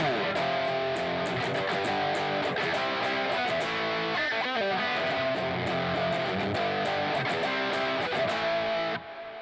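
Distorted electric guitar strums power chords over a steady beat with crisp cymbal hits, loud and continuous, cutting off abruptly near the end.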